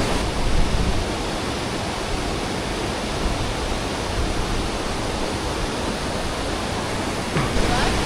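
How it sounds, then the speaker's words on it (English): Waterfall at falls in the northern Cape York area, a steady broadband rush of falling water held at even loudness throughout, with no talk over it. "this is the footage that I've got of the falls"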